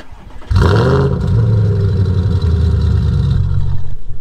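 An Audi RS5 engine cranks and fires up with a loud roar, then settles into a deep, rumbling idle, close by at a supercar gathering, with no voices.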